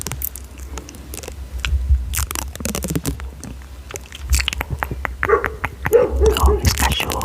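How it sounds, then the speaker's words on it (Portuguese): Dogs bark in short, scattered bursts in a home during a whispered ASMR livestream, some barks close and others muffled, with soft mouth sounds and quiet speech between them. "Oh, meus cachorros."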